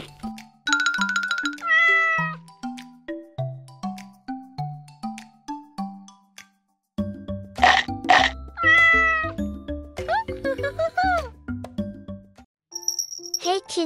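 Cat meows repeated in quick melodic bursts, some at stepped pitches like a musical sequence, mixed with chimes and jingly tones, loud and close over a playful game-like soundtrack.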